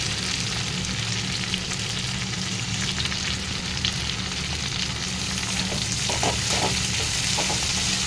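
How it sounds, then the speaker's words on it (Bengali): Potatoes and onion fry steadily in fish oil in a pan for a vegetable dish, giving a continuous close sizzle with occasional stirring scrapes and no voices. "এরা দিয়ে আমি ভালো করে ভেজে নেবো পেঁয়াজের সঙ্গে গাজরটাও দিয়ে দিচ্ছি"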